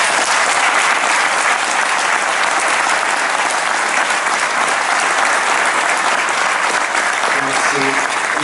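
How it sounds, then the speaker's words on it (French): Sustained applause from a large audience at a 2026 New Year's greetings ceremony in Missillac honouring a rugby team, dense and steady throughout with a few faint voices near the end. "et ça mérite d'être applaudi"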